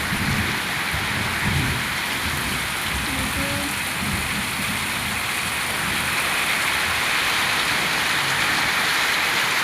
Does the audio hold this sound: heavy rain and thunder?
yes